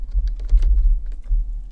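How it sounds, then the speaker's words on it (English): Quick bursts of keystrokes on a computer keyboard as a Minecraft command is typed, close and clear over a low steady hum, in a short run of uneven taps. "so you just type that command and you type the same command for all your other spawn points"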